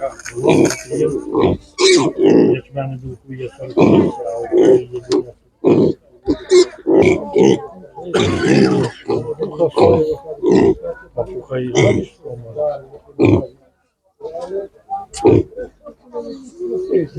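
Pigs and piglets at an animal market grunt and oink loudly and repeatedly at close range, with a few squeals, over a busy stretch of continuous animal noise.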